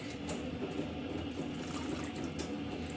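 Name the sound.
water poured into a jar of pickled beets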